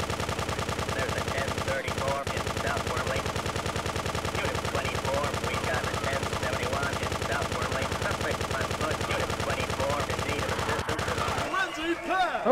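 Continuous video-game gunfire from GTA 2, steady rapid shots running throughout at a constant loud level, breaking off near the end.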